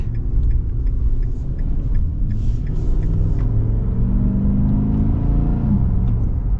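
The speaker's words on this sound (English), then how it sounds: "And the engine sounds great, and great torque as well." A 2024 Nissan Titan XD PRO-4X pickup truck's engine hums with a steady low rumble while driving, a continuous smooth drone inside the cab with slight rising tones, no talking.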